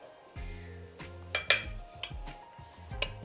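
Semolina and wheat flour being mixed into a Sri Lankan rich cake batter, heard as intermittent clinks and scrapes of a utensil against a bowl with brief resonant metallic knocks, close and fairly quiet.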